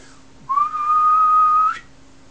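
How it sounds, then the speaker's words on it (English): A single steady, high-pitched whistle from a person, held for just over a second, clear and close. "You whistle, you're whistling like mad, doesn't go off."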